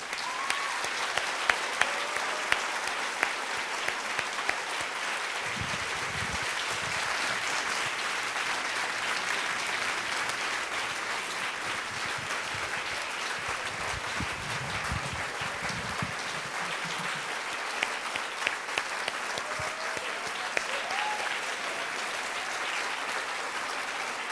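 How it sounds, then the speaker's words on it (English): Sustained applause from an audience at a social good summit, a steady, dense wash of many hands clapping for over twenty seconds, even and fairly loud, with faint voices briefly surfacing. "Please, let's give him a round of applause."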